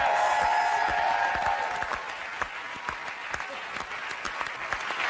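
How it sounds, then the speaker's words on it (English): A television game-show studio audience applauds a contestant couple, a dense, loud burst of clapping that slowly thins and softens over a few seconds while a host's voice carries on faintly underneath. "A big round of applause for the Johnsons, everybody."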